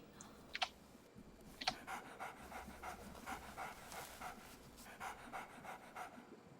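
A dog pants rapidly in the horror video game Demento, quick breathy huffs with sharp clicks at the start and a faint high whimper, close and clear with no talk over it.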